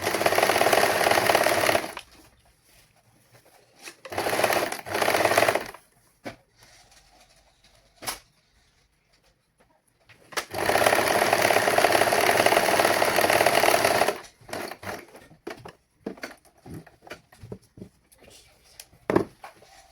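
A sewing machine stitches the lining of a prince-cut saree blouse in two longer close runs and a few short bursts, with clicks, rattles and quiet gaps between them.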